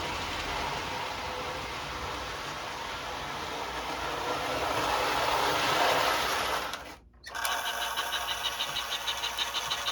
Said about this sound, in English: it makes a little bit of the choo-choo sound, but it's not real strong